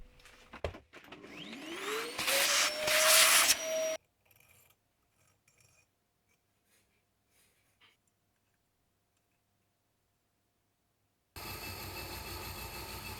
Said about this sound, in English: Again, I checked with compressed air that both holes align.